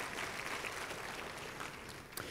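Audience applause at a luncheon presentation, a steady dense patter of clapping that holds throughout at moderate level and thins slightly near the end.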